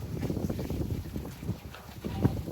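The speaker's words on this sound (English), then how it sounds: "It's quite a windy day today" Gusty wind rumbles and buffets the microphone, a low, continuous blustery roar with no voices.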